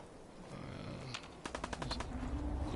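Gunfire in Fallout 4, a quick burst of rapid automatic shots cracking in a tight rhythmic series midway, fairly close and loud over a low background rumble.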